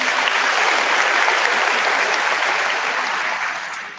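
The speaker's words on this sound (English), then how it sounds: "Please give them a round of applause." Sustained crowd applause at a 2019 high school commencement ceremony for Rocky Mount High School, dense and steady clapping filling the space for several seconds before easing slightly at the end.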